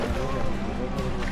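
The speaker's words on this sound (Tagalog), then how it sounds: "Habang umaandar ang makina ng bangka" A boat's motor runs steadily on the way to Cabalitian Island in Pangasinan, a continuous broadband drone mixed with water and wind noise that stays loud and close throughout, with possible speech underneath.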